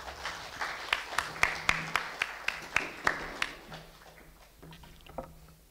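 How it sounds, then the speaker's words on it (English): Sparse, quick hand claps from a small audience at the opening of a debate, about a dozen sharp claps over a low hum that fade out near the end. "Start applause, please."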